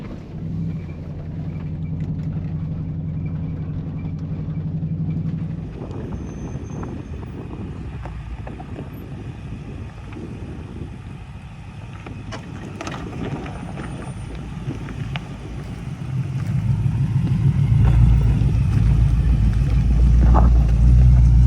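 A car wash sprays a Nissan Patrol Y62 fitted with Emuwings. There is a steady rushing hiss of water jets with a low machine rumble, growing louder and deeper toward the end, and no voices.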